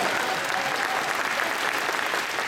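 A Phoenix Comicon audience applauds William Shatner in a steady, dense wash of clapping from a large crowd, loud and continuous throughout.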